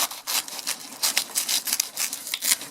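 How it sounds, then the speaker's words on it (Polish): Cutting into the trunk of a Musa balbisiana banana plant in a greenhouse gives close, repeated crisp tearing and crunching strokes in uneven bursts, with no talk. "Ale możemy ciachnąć musę balbisiana, zobaczyć co tutaj się dzieje."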